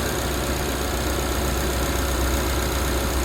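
A Suzuki Jimny engine idles steadily and close by, a continuous even hum with light knocking texture as the revs settle lower.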